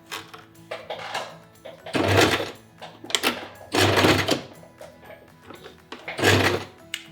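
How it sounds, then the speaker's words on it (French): A sewing machine stitching the three sides of a fabric pouch, running in three loud bursts of rapid clatter separated by quieter pauses with small clicks and fabric handling. "nous allons coudre les 3 côtés"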